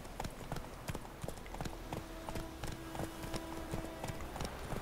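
Horse hooves clip-clopping at a steady riding pace in the video game The Witcher 3: Wild Hunt, a quick regular rhythm of close, crisp hoof strikes with a faint tonal background hum.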